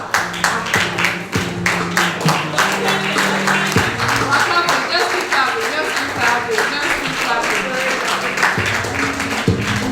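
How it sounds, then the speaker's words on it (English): An audience at a designathon pitch session applauds the third-place team with loud, sharp clapping, near and fairly steady, while music plays underneath. "Please give a warm round of applause to"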